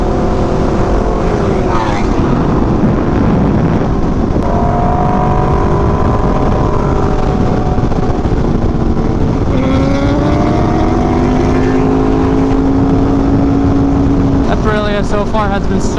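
A BMW S1000RR motorcycle with a drag setup rides along, a loud, constant engine roar with repeated revving pitch rises and falls, heavy rushing wind noise throughout, and a voice speaking over it at times.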